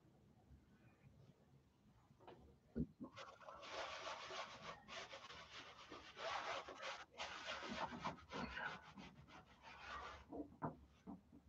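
A sponge rubs over the surface of a painting, giving soft, scratchy brushing strokes in irregular bursts, moderately close, with no talk.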